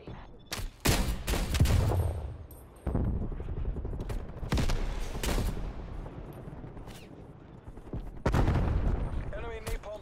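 Bursts of automatic gunfire and sharp shots in Call of Duty: Black Ops Cold War on the Nuketown map, loud and close, in irregular clusters with brief pauses, while a player talks over the action.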